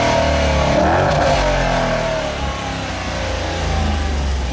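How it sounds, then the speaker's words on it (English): A 2015 Dodge Challenger R/T with a Hemi V8 accelerating hard during a 0-60 mph run, a loud continuous engine roar that swells and then eases slightly, heard alone. "love me the sound of a Hemi"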